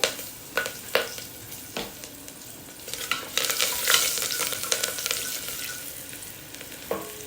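A few sharp clinks, then green chilli and curry leaves hit hot oil with turmeric with a loud burst of sizzling and crackling that gradually settles.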